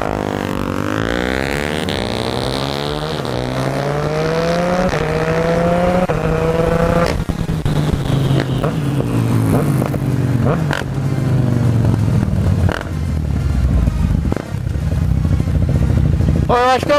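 Yamaha MT-09 motorcycle fitted with a remap and quickshifter, revving hard through quick upshifts in rising and falling sweeps, loud and close, with a rider's voice partly heard over the engine.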